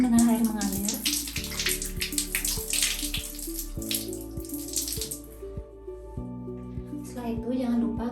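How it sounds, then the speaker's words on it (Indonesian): Running tap water splashes over hands during handwashing, a bright hissing spray under steady background music with piano-like tones. "basahi tangan dengan air mengalir"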